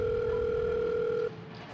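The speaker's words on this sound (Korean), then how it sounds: "그런데 집 안에서 벨소리가 계속 울리더라고요." A phone rings inside a house while the caller waits at the front door, heard as a steady two-tone electronic ring that stops abruptly after about a second, leaving quiet room noise.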